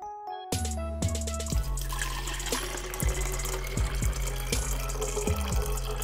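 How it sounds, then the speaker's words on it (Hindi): Muddy water poured into a filter water bottle, a steady close pouring and gurgling stream with repeated splashy surges as the bottle fills, running alone without talk. "तो अभी हम ये मडी वाटर इस बोतल में डाल देते हैं।"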